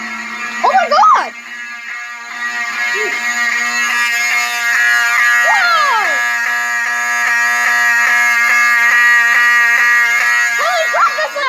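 A fire alarm system under test inside a fire station, sounding a loud, continuous electronic buzzing tone throughout, with brief excited exclamations from people near the start and end.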